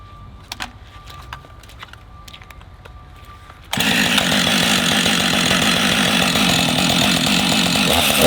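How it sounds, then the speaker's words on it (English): Husqvarna 562XP chainsaw on a 15-inch bar: quiet idle and small clicks at first, then the engine suddenly screams to full throttle and holds a loud, steady high-revving roar to the end while cutting protective trousers. "We're going to take the Husqvarna 562XP on a 15-inch bar and see what happens."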